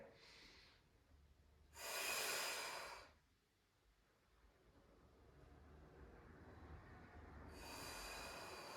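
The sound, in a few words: deep breathing exercise, inhaling and exhaling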